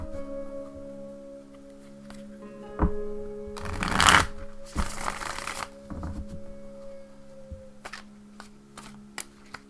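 Tarot cards being shuffled before dealing, with a couple of loud bursts of riffling and cards snapping together close by over a faint steady hum, then quieter handling.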